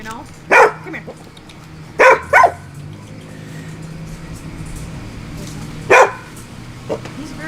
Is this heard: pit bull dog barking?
yes